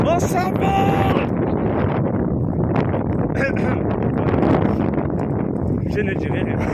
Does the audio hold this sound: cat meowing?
no